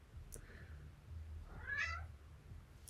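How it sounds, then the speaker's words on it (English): A house cat lets out a single clear meow, wanting to be let outside, heard at moderate distance in an otherwise quiet room with a faint earlier chirp. "And there goes my cat wanting out."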